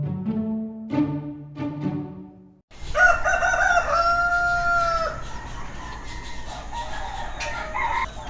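A rooster crows loudly and close by on Utila, Honduras, one long drawn-out cock-a-doodle-doo following a few short clucking calls, heard alone without talking.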